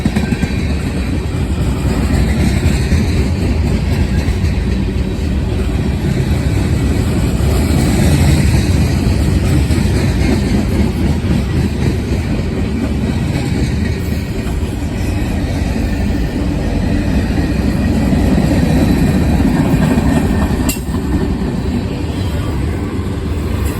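Interstate heritage unit locomotive 9894 leads a train rolling past at Glendale, a loud continuous rumble of wheels and engine filling the whole stretch, with steady rail noise and no speech.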